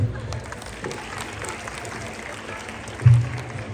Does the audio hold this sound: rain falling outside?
no